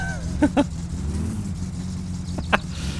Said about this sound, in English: The car is driving surprisingly well, in fact, for something that I have built.